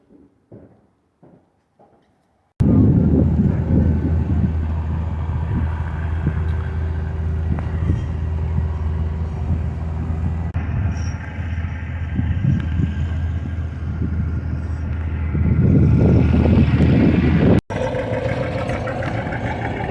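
After a few soft knocks, an old tractor's heavy engine roars into a loud continuous drone at a tractor pull, revving louder toward the end as it strains under load on the track.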